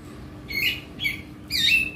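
Caged songbirds at a bird kiosk chirp in three short, bright bursts of trills and tweets over a low, steady background hum, with no talking.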